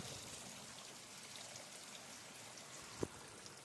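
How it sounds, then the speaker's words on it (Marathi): Steady hiss of rain falling at night, fairly faint and continuous, with a single sharp drip or tap near the end and no voices. "बघा पाऊस चालू आहे मध्ये"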